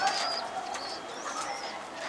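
A pigeon cooing softly in a few short repeated calls, close by, with faint background noise.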